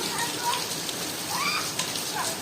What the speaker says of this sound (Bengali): বৃষ্টি কি করতেছে